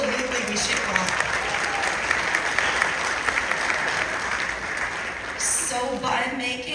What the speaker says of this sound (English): Yes, absolutely, we should clap.